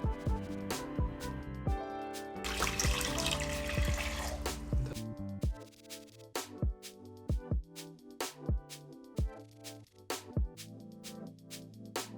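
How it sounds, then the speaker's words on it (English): Water poured into a pot of dried hibiscus flowers for agua de jamaica, a brief rushing pour followed by a series of sharp drips and splashes that trail off, all close by. "pour 1 liter of water into a pot"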